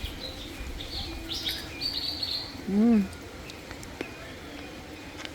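Faint birds chirp and call in the open air under shady trees in rural Ratnagiri, with a brief louder call midway and soft background sounds throughout.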